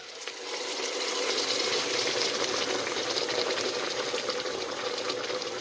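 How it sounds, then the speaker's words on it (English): Water pours steadily into a cooking pot of blanched cow foot with a full, gushing rush, close and continuous for several seconds. "Gonna add some water."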